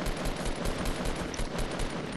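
Rapid automatic gunfire in a Fortnite squad match sounds as a dense, continuous burst of shots that fill the whole moment. There is no talk over it.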